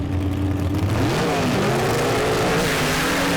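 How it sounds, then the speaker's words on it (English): A 1962 Ford Falcon gasser drag race car launches off the line at a drag strip, its engine roaring loud and close, the pitch sweeping upward as it accelerates, with no talk over it. "Man, look at that car launch."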